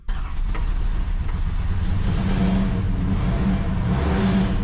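A 1968 Dodge Charger R/T 440 V8, recently flooded and cranking slowly, roars to life and revs loudly up close, a deep continuous rumble rising and falling with the throttle.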